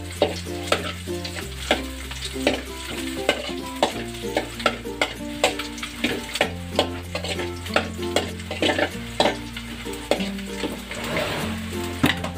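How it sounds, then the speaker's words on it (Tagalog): Garlic and ginger sauté in a pan, a soft sizzle with repeated sharp scrapes and knocks of stirring, partly masked by background music. "Habang dinigisa natin ang bawang at luya"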